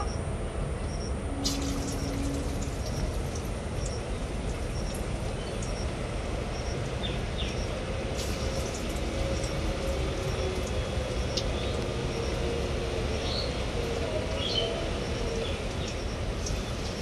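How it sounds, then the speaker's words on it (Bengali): Onion fritters (piyaji) deep-frying in hot oil give a steady, even crackling hiss that runs unbroken throughout, with no one speaking. "বাকিগুলোও কিন্তু আমি একইভাবে ভেজে নেব।"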